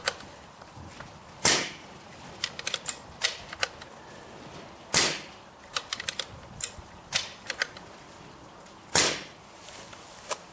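A tuned BSA Super 10 .22 air rifle fires three sharp, close shots a few seconds apart in a garden by a garage wall, with lighter mechanical clicks between them.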